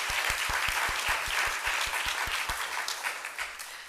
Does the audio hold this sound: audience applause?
yes